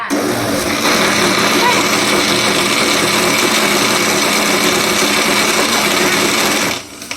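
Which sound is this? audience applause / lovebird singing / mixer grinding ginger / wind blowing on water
mixer grinding ginger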